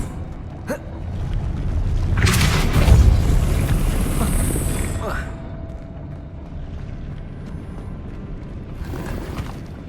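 Depulso force spell cast in Hogwarts Legacy, a loud whooshing magical burst that swells over a couple of seconds with a rushing, wind-like roar, then fades under background game ambience.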